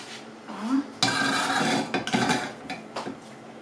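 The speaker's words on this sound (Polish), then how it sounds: "Zaraz przestawię garnek, żebyście wszystko widzieli." A metal pot of chanterelle mushroom soup clanks and scrapes as it is shifted across a stovetop, a few close knocks and rubbing noises over steady background hiss.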